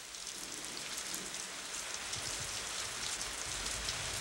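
Monsoon rain falling steadily, a dense even hiss of drops on surfaces that carries through the whole stretch without a break.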